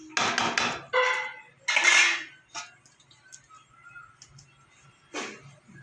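A metal lid is set onto a cooking pan of aloo potol posto in a home kitchen, giving a quick run of sharp clanks and clatters, then a lone ringing knock after a quiet pause.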